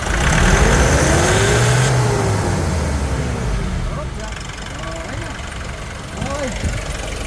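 A Nissan NV350 van with a low-power fault revs up, a loud rising and falling engine sweep that then settles into a steady idle while a person talks nearby.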